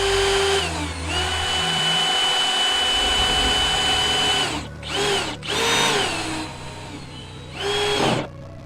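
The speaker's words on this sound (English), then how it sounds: "drilling a bunch of holes through the door" Power drill boring holes through a Rover car door, a loud close whine that runs steadily, then drops into several short bursts as the bit bites and stops.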